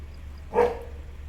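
A dog gives one short, fairly close bark at night, standing out briefly over a steady low hum.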